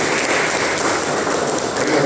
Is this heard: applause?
yes